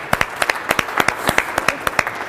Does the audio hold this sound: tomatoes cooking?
no